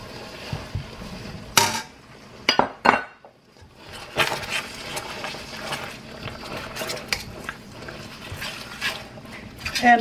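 Curry paste for Lao Mee-Ka-Tee goes into a pan, with metal utensils scraping and clinking against the cookware in irregular bursts close by while a person talks throughout.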